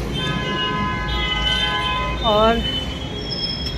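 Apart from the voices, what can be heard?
metro train at Sector 18 metro station, Noida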